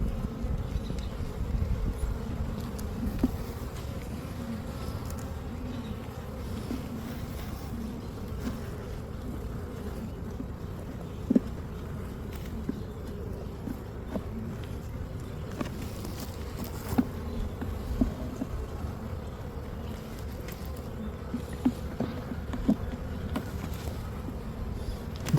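Honeybees buzz steadily around an open hive during an inspection, a dense close drone with individual bees flitting past the microphone, continuous throughout with no talking.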